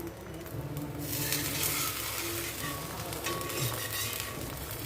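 Fenugreek bun dosa sizzles in oil or ghee on a pan, a dense, steady crackling fry that jumps up after the first second and keeps going without a break.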